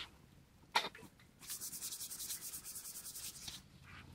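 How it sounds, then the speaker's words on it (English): Scraping dust out of a small cut in wood outdoors: a sharp scrape, then a steady run of rapid rhythmic rubbing strokes, close and fairly quiet. "Just trying to scrape some dust out of here."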